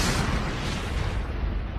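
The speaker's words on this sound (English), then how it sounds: "that's like 600 megatons to 800 megatons exploding in one" A deep, roaring blast stands in for an exploding asteroid, a dense rumble that sounds loud and sustained from the start and slowly thins as it fades.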